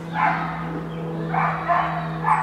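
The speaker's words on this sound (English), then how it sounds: "There's a new dog in town." A dog in a town neighborhood barks in about three short bursts, fairly close and loud over a steady low mains hum.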